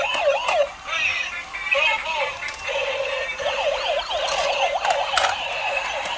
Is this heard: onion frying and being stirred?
no